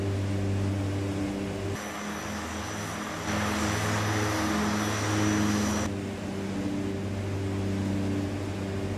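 Simulated Fokker F27 turboprop airliner on its takeoff roll in a flight simulator, a steady propeller drone with tonal hum that swells to a louder, brighter roar midway and then settles back.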